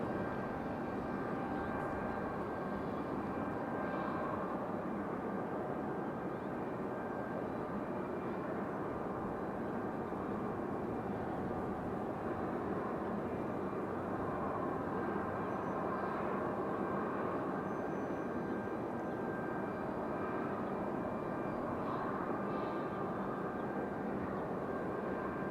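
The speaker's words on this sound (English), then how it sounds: "Delta 1018 coming in from Fort Lauderdale, Florida" A Delta A320-200 airliner arriving from Fort Lauderdale at Raleigh-Durham International produces a continuous, moderately loud jet rumble that stays even and unbroken for the whole stretch, with no talk over it.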